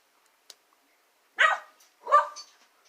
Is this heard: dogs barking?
yes